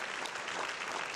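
A church congregation at a worship service claps and cheers for Jesus, a dense continuous wash of applause filling the room for a brief moment.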